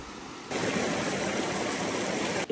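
A mountain brook flowing steadily, a dense wash of rushing water that starts abruptly and continues loud and even before cutting off, with no voices.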